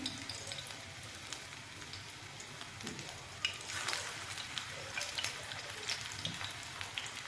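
Gram flour and spinach pakoras frying in hot oil, a steady soft sizzle and bubbling with faint crackles throughout, quiet and close, no talking.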